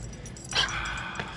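Dogs give a short whimpering yip near the middle, a brief high cry over a steady low background hum, with a fainter yelp following a moment later.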